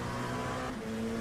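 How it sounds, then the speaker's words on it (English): A GT race car in a racing game at the Zandvoort circuit drones steadily near at high revs, its engine note stepping down in quick shifts toward the end, loud and continuous with no talk. "Don't you just love the rapid downshifts at the end of the straight here?"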